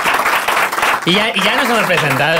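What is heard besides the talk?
audience applause for podcast guest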